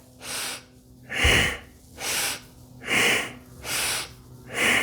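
Steady breathing exercise with powerful breaths through the nose, six rhythmic alternating inhales and exhales, each a loud, close airy rush lasting under a second.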